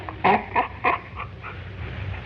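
A dog gives three short whimpering yelps close by, followed by softer whines over a low rumbling background.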